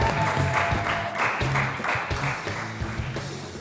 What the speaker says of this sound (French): J'aimerais qu'on applaudisse pour Mika.